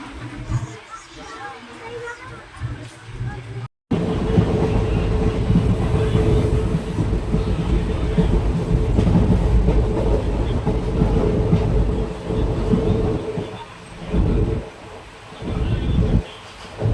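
A train on the Amritsar to Jammu route runs with a loud, continuous rumble and rattle of the carriages. It starts after a quieter opening, and a voice speaks under the noise.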